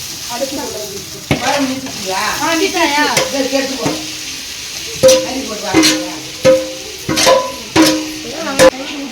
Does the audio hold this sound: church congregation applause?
no